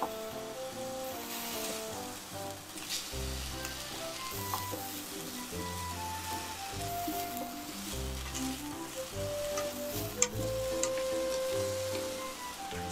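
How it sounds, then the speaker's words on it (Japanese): Asparagus and Chinese yam stir-fry in hot oil, giving a steady, close sizzle with soft intermittent stirring scrapes throughout. "アスパラをさっと炒めます。"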